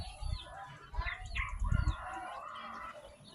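A hen kept as a brood hen beside a breeding cage clucks in short, repeated calls close by, with other fowl calling in the background.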